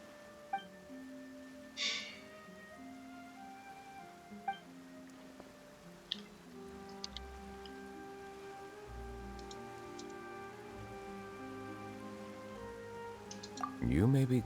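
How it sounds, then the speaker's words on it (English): Rain falling in the video game Genshin Impact, a soft steady patter spread across the scene, running beneath sustained musical tones and occasional chimes, with a louder burst near the end. "Why is it raining all of a sudden?"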